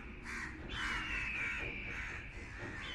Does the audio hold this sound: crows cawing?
yes